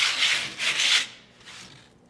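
A sanding block rubs across wood painted with sawdust-mixed paint on a stenciled coffee project, two close, loud, gritty back-and-forth strokes followed by a fainter third pass, with no talking.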